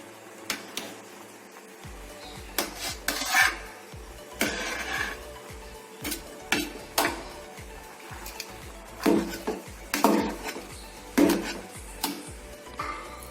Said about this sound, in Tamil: கிளறும் போது பெரிய கரண்டி வச்சு கிளறணும்.